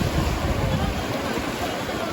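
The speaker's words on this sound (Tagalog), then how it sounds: "ang lakas ng alon talaga guys dito" Strong ocean waves crash at a beach in a continuous loud, broadband roar, with wind buffeting the microphone and a voice faintly under it.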